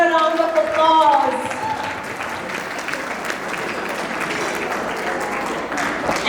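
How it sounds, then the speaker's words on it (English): Audience applause at a women's council presentation of a strategic plan, with a sustained wash of clapping; a voice trails off at the start. "This deserves a round of applause."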